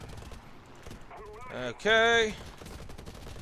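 Heavy machine gun fire from a fighter plane in War Thunder, a rapid rattle running beneath a brief spoken word and loud tonal engine or warning sounds in the middle.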